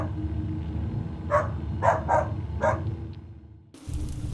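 A household dog barking at night in an animated story, giving about four sharp, moderately distant barks in a loose rhythm over a steady low background hum, followed by a sudden shift in ambience.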